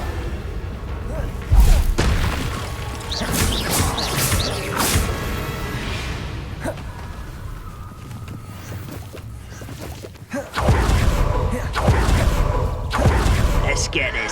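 Confringo blasting spells in the Hogwarts Legacy video game go off as heavy booms and thuds, with one sharp blast early and another loud burst near the end over a dense rumbling battle bed.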